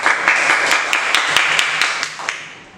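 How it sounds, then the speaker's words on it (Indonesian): Classroom applause from a group of sixth-grade pupils, a steady patter of many hands clapping with some sharper individual claps, filling the room for a few seconds before tapering off. "Tepuk tangan untuk Rafflesia."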